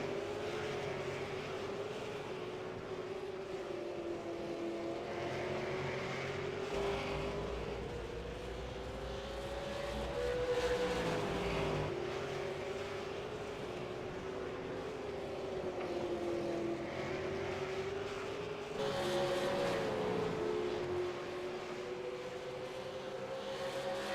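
V8 Supercar race cars at Mount Panorama, Bathurst, in the iRacing simulator: a steady, distant engine drone rises and falls through gear changes over a long stretch, fairly faint, with no talk.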